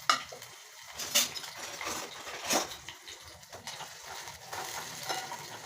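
Cumin seeds dropped into hot oil in a pan, giving a soft crackling sizzle with occasional clinks of a utensil stirring, quiet and without voices.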